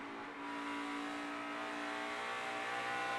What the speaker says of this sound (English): But just listen to that poor old engine.